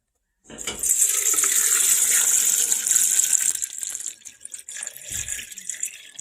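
Water gushes and splashes into a container holding an animal skull, a loud continuous pour for a few seconds that thins out into scattered trickles and drips.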